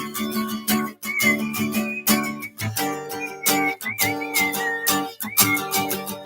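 A whistled melody from a song rings out alone, clear and close, with bright wavering notes broken by short pauses between phrases.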